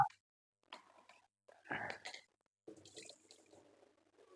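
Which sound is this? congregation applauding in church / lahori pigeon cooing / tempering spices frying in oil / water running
water running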